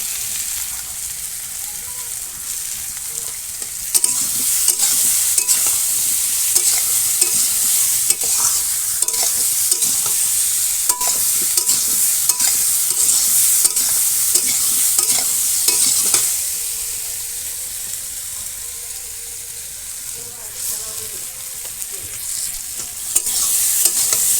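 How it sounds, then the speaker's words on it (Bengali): Spices with turmeric and salt sauté in a pan in a village kitchen, with an even, bright sizzle and repeated scraping stirs of a utensil against the pan that keep going throughout. "মশলা দিয়ে আমি কষাবো"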